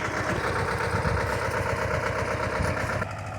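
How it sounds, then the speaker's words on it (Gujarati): A tractor fitted with a blade attachment rumbles continuously at close range, a low idling drone with constant vibration that drops slightly in level near the end. "ટ્રેક્ટર આવી ગયું છે પાવડાવાળું"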